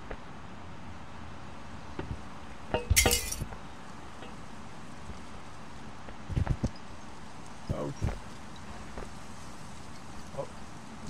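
Glass shatters in the physics game Human Fall Flat: one sharp, bright crash near the middle, with a few scattered thuds and clinks before and after against a quiet background.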